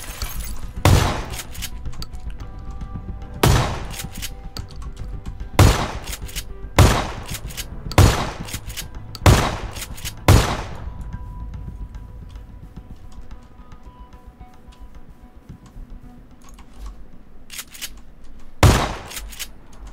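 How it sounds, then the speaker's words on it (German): Gunfire in the video game PlayerUnknown's Battlegrounds: sharp single shots crack out at irregular intervals, about eight in all, loud and distinct over a quiet ambient background, with a late final shot after a pause. "Die Schüsse kommen von rechts."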